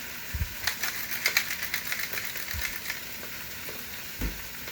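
Turkey meatball soup ingredients with bok choy and mushrooms sizzling in a pot as they are stirred, steady frying hiss with a few scraping spoon knocks against the pot.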